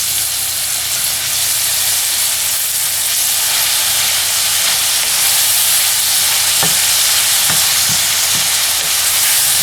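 Steady loud sizzling and crackling of vegetables frying in a pan, a continuous hiss with a few sharp pops near the end.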